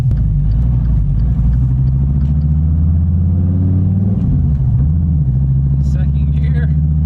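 A rebuilt 2014 Dodge Viper TA Time Attack car pulls out onto the road, its engine giving a loud, deep, steady rumble close by, with a short rise in revs midway and faint talk inside the car.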